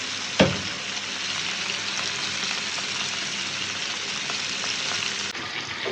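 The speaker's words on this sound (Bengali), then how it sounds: "এই দেখেন সুন্দর করে ভাজি" Tilapia fish frying in oil in a pan, a steady close sizzle running the whole time, opening with a brief sharp crackle as the fish or oil is disturbed.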